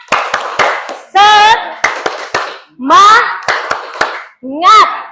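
A school class does rhythmic 'tepuk semangat' clapping in bursts of sharp hand claps, with children's voices chanting loudly between the claps.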